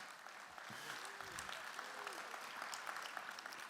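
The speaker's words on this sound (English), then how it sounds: "round of applause for Buckwheat." A ceremony crowd at a Corvette Hall of Fame induction breaks into applause for an inductee, a broad wash of clapping from many hands, with a few faint tonal sounds and murmurs beneath it.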